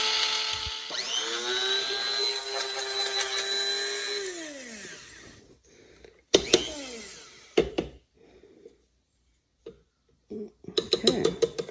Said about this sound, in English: I'm going to put it into my spice grinder because it's the easiest.